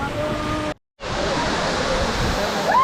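A waterfall at a hill fort, seen during the monsoon, gives a steady broad rush of falling water, loud and continuous, broken once by a moment of silence, with a voice talking over it.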